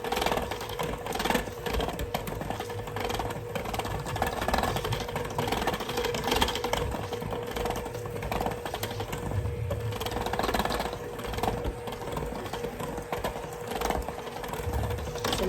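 An electric mixer beating vanilla cake batter on low, giving a continuous buzzing motor whir at steady moderate volume with no pauses.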